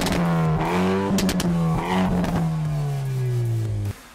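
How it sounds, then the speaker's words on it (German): Exhaust note of a 2022 Hyundai i30N sports hatchback, loud and close, with a steady engine drone that rises in pitch through rev changes, sharp crackles around the middle, and a gradual fall before cutting off abruptly near the end. "der Sound von so einem i30N ist wirklich außergewöhnlich"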